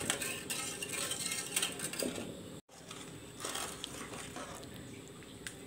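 A ladle scrapes and knocks against a pot while lemongrass pandan jelly mixture is stirred over medium heat, giving soft, irregular clinks and thick sloshing at low volume, with a brief break partway through.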